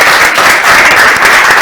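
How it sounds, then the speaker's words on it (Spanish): An audience in a cultural hall applauds the guest at the end of a live talk, a loud, dense, steady clapping from many hands throughout, close and continuous. "un aplauso a Javier Gomá"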